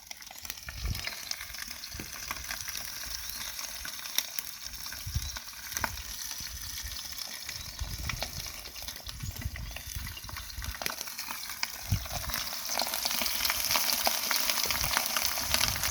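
Pig fat rendering down into lard in a pot outdoors, a continuous crackling, bubbling sizzle with scattered pops that swells slightly louder toward the end, with no voices.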